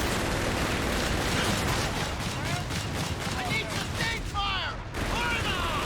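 Armor-piercing rounds fired by a unit in the video game Company of Heroes 3. A dense, steady crackle of battlefield gunfire and booms runs throughout, with whistling tones near the end and voices talking over it.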